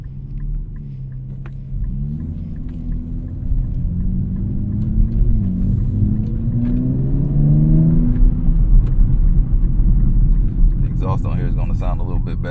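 A 2024 Nissan Z Nismo drives with a low, throaty engine and exhaust drone that swells steadily, with a brief crackle of burbles near the end.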